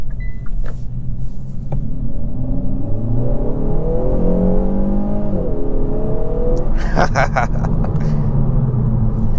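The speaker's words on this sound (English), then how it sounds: "And once that turbo comes on the boost, this thing just it moves." A 2023 Kia Forte GT with a turbocharged engine and dual-clutch transmission accelerates from inside the cabin, its engine tone climbing steadily through the rev range and then dropping, all under someone talking.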